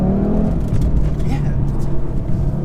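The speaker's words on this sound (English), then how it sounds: "the noise from this engine, oh, it never gets old" A 2018 Audi RS3 engine drones and revs while the car is driven, a loud low growl with shifting pitch heard from inside the cabin, with someone talking over it.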